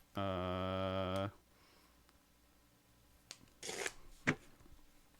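A deck of Magic: The Gathering commander cards is riffle shuffled in one quick, soft rustling burst, following a sustained humming tone and a few faint clicks in an otherwise quiet room.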